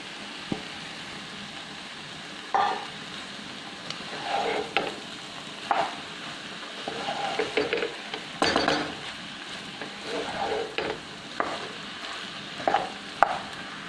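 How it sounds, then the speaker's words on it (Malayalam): Cooked jackfruit pieces being stirred in a pan for chakka thoran, a string of scraping, clacking spoon strokes against metal over a soft background sizzle, close and without any voices. "വേവിച്ച് വെച്ചിട്ടുള്ള ചക്ക ചുള വേവിച്ചതുണ്ടായിരുന്നല്ലോ, അത് ഇതിലേക്ക് ഇട്ടിട്ട് ഇളക്കുക"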